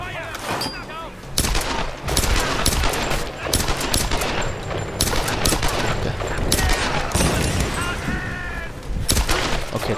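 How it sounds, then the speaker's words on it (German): Rapid bursts of gunfire crack through a third-person action shooter, shots clustering in quick volleys, loud and close, mixed with game effects and speech. "Okay, das war ein Kopfschuss, das war der nächste Kopfschuss."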